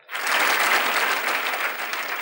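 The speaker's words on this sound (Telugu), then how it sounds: "నమ్మిన వాళ్ళు గట్టిగా చప్పట్లు కొడతారా?" An audience claps loudly and steadily, a dense wall of applause that starts abruptly and holds at full strength throughout.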